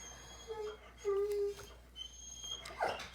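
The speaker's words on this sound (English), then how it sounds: "what the heck is wrong with that dog? Why is she crying like that?" Dog whimpering and crying in soft, high, drawn-out whines and short yips, fairly faint, with a person talking over them.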